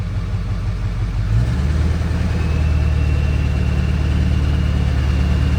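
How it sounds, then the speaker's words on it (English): A Ford 7.3L Powerstroke diesel steps up from a low idle to a steady high idle, its rumble rising about a second in and then holding an even, loud, close drone. "Let's go for high idle, which should be 1100 RPM high idle on tune 1."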